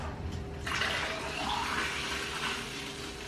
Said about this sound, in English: Put in the stop bath.